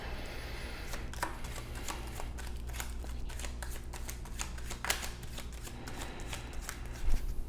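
Tarot cards being shuffled by hand, a continuous run of quick riffling flicks and soft slaps close up, with no talking.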